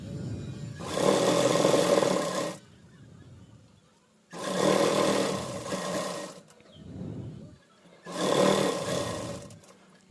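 A sewing machine runs in three loud, close bursts with pauses between, stitching all the way around a frock made from a saree, with softer fabric handling sounds in the gaps.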